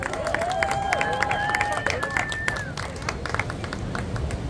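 A crowd at a surf festival awards ceremony claps for the runner-up surfer, with crisp, busy applause, some cheering and an announcer's voice over it.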